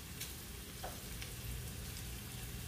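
Steady, even sizzling of oil in a pot as bay leaves and whole garam masala fry for beef tehari, a continuous close crackle with faint occasional pops.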